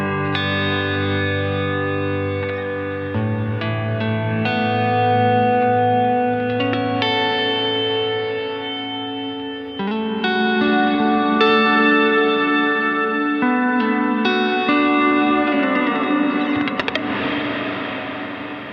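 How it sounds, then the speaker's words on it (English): A guitar played through a Strymon NightSky pedal on its diffuse reverb setting swells into a slow-building ambient wash, with sustained chords blurring into a dense, loud, continuous tail. "And then finally, we have a diffuse reverb. It's like a slow build wash."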